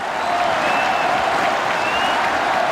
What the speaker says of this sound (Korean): 팬들이 기립박수를 장종훈에게 보내고 있습니다.